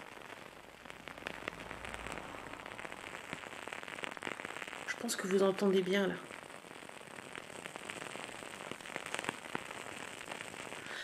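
Soft crackling and popping from a decorative electric fireplace meant to mimic a wood fire, faint and continuous at close range, with someone speaking over it and a brief tonal electronic burst midway.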